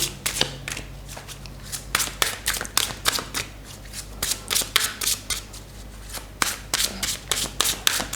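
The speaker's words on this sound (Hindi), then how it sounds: "आइए शफल करते हैं कार्ड्स" A deck of tarot cards is shuffled by hand in a long, loud run of rapid riffling and slapping bursts, heard up close and uninterrupted by speech.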